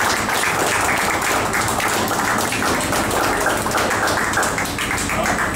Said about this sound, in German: Ich denke, Marc Schmid in der Maschine und oben Andi Kunz, die haben einen Applaus unsererseits verdient.